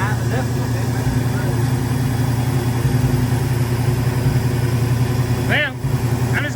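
A Chevy truck engine with a carburetor runs steadily at a low, rough idle, close by and loud, with a couple of short squeaky chirps near the end and no other sound breaking in.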